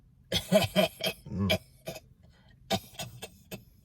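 A voice imitates a woman's coughing, giving several harsh, throaty bursts in quick succession, then a pause and a shorter second cluster of cough-like sounds, close and fairly loud.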